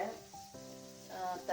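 Vegetables fry in a pan for egg fried rice, with a quiet, steady sizzle heard close up and a faint stir near the end.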